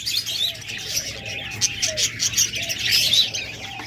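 Pet cockatiels, lovebirds and budgerigars kept for sale chirp in bright, short, overlapping tweets that come in irregular bursts, lively and fairly close, with no one talking.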